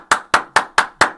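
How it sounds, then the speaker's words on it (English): Hands clap five times at an even pace, each a sharp, crisp slap that fades quickly, close and loud with nothing else heard. "Clap it up."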